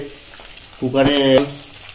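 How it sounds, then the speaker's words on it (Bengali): A small amount of oil in a pressure cooker sizzles sharply for about half a second as vegetables drop in for frying, then fades back to quiet background. "অল্প তেল দিয়েছি, এর মধ্যে এই দিয়ে এই সবজিগুলো ভাজবো"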